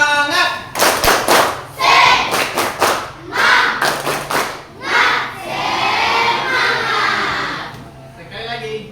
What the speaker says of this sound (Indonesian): mari kita tepuk semangat dulu. Ayo. Tepuk semangat.